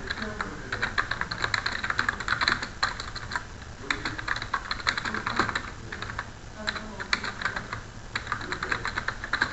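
Keys on a computer keyboard are pressed, including the Ctrl+A shortcut, in a dense run of close, quick plastic clicks and taps that continue throughout with short pauses.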